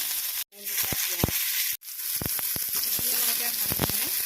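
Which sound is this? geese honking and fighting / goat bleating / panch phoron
panch phoron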